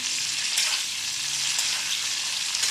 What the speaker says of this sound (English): cook the cauliflower well in the oil